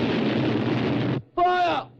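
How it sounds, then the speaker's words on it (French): A battleship's turret guns fire in a 1960 war film about sinking the Bismarck: a heavy, roaring blast lasting about a second, a brief gap, then a second sharp, ringing burst that fades out. "Toute la tourelle parée à faire feu, commandant. Ouvrez le feu."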